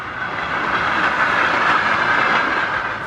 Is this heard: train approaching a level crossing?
yes